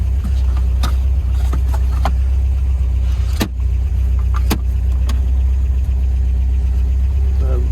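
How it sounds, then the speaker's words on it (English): A 1972 MGB Roadster in British Racing Green idles steadily at about 900 RPM, a low, even engine hum that runs throughout, with occasional faint clicks and light handling noises nearby. "A tick over, you can see the oil pressure. It's running at about 900 RPM."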